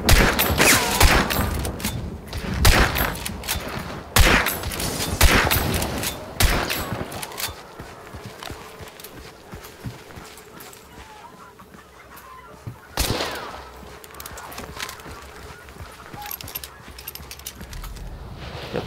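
Gunfire exchange in the video game Hunt: Showdown: a loud burst of shots up front, then scattered, more distant reports, with a sharp shot near the end.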